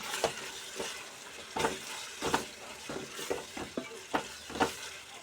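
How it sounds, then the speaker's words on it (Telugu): Masala of turmeric, chilli powder and coriander powder frying in a pan for korramenu (murrel fish) pulusu, a steady sizzle punctuated by repeated rhythmic stirring scrapes at close range. "మసాలా కొంచెం వేగుతూ ఉంటుంది"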